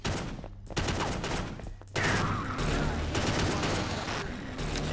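A pistol in the Half-Life: Caged game fires repeatedly, loud punchy reports with heavy low rumble packed closely together, with game noise and possible voices mixed in.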